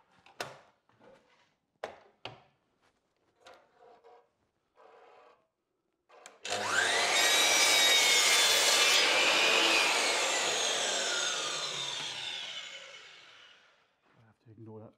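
A hand saw cuts a 45 degree mitre in an MDF skirting board, a dense rasping stroke noise lasting several seconds and then fading, preceded by short knocks and handling sounds.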